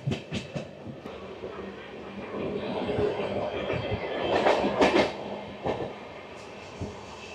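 A steady rumble and clickety-clack of wheels on rails from aboard the Kanchanjunga Express, a Sealdah–Sabroom train, running past Pakur station, swelling midway with brief faint squeals.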